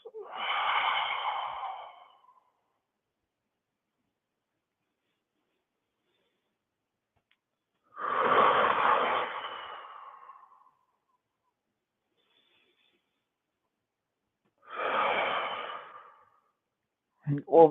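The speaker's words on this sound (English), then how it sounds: "3 deep breaths." Three slow, deep breaths taken at home as part of a fitness exercise, each a long, airy inhale-exhale lasting about two seconds, separated by long silent pauses, close and clear with no talking.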